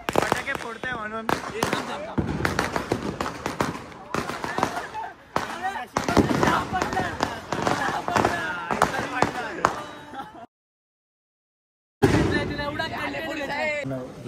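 Diwali firecrackers burst repeatedly in a busy street celebration with police present, a dense run of loud cracks and pops over crowd chatter and voices, broken by a brief silent gap before the bursts resume.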